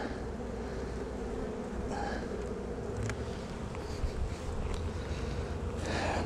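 A dense, steady buzzing of many bees fills the air, continuous and close, with some wind rumble underneath.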